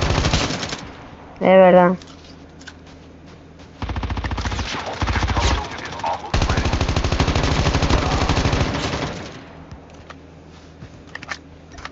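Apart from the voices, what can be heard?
gunfire in a battle royale video game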